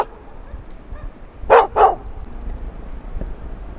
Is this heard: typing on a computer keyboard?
no